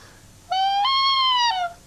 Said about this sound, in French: Pas besoin de dire c'est quoi, le huard.